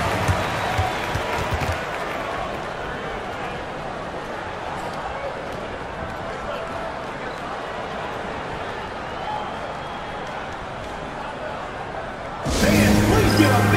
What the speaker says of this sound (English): Please give a big round of applause for you, this squad.